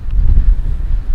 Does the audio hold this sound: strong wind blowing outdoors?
yes